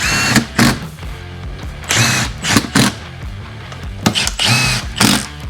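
Bursts from a power tool gun, set on low, spinning out engine case bolts on a Yamaha YFZ450R quad during an engine rebuild; several short whirring bursts in an irregular rhythm, close and fairly loud, no talking.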